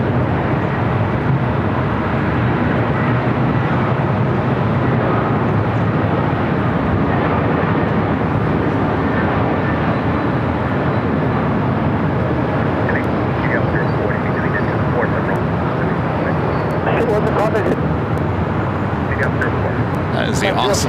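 Delta Airbus A321 airliner at LAX, a steady loud broadband engine roar holding for the whole stretch, with radio chatter and voices talking over it.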